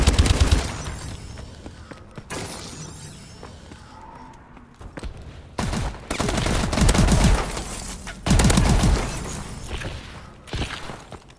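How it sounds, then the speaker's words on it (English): AK-12 assault rifle gunfire in the game Call of Duty: Advanced Warfare, several loud bursts of shots with pauses between them, mixed with other in-game noise. "the fire rate on the AK-12 is so slow"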